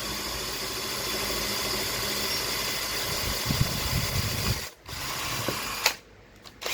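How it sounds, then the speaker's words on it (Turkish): A handheld power drill held square to a door, boring the hole for a door handle: a steady, close whirring drone with two short stops where the motor cuts out and restarts. "matkabı mümkün olduğu kadar 90 derece bir açıyla tutuyorum"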